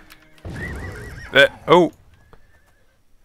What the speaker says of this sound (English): I accidentally hurt my horse. Sorry, horse.